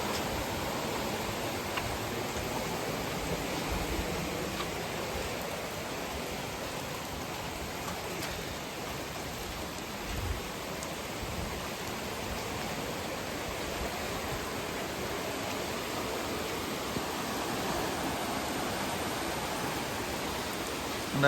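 Rushing water from an overflowing stream or waterfall after heavy rain makes a constant, dense, hissing roar that runs loud and steady throughout with no breaks and no voices.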